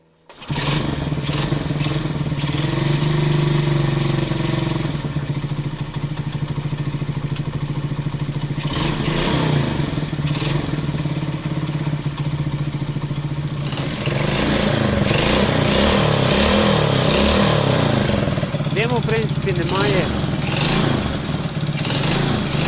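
A small Alpha moped engine runs steadily throughout, idling with a rough chugging tone, then revs up louder with rising whine near the end, close by.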